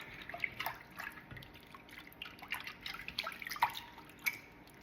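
Water in a bathroom sink sloshes and drips as a human hair wig is soaked in shampoo-mixed water, with small irregular splashes and trickles close by and no talking.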